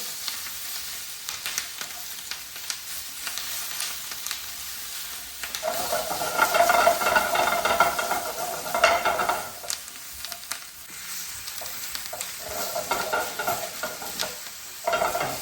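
Onions frying in a pan for restaurant-style chicken jalfrezi, heard as a steady hissing sizzle with repeated stirring scrapes. The sizzle grows louder and more intense midway, then eases back, with no talk.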